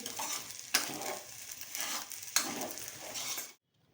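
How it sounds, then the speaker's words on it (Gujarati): Sabudana khichdi, soaked tapioca pearls fried with spices, stirred in a pan, with steady sizzling broken by a couple of sharper scrapes of the spoon against the metal, then an abrupt stop. "હવે આને આપણે મિક્સ કરી લઈશું"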